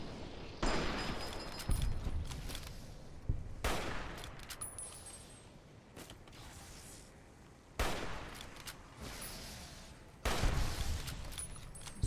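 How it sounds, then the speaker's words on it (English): Gunfire in a Fallout game, including laser weapons and a fight with robots: repeated loud bursts of shots and impacts separated by quieter gaps, with a metallic ring. "How about I shoot you in the knee?"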